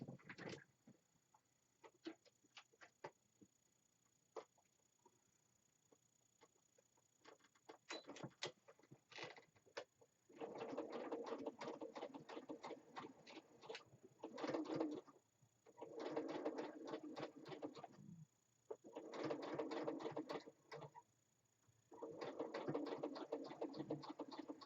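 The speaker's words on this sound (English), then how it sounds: "I'm just going to take this over the sewing machine and just run a little stitch down here." Domestic sewing machine running a stitch along a homemade fabric face mask: several bursts of rapid motor-driven stitching, separated by short pauses, fairly close with no talk.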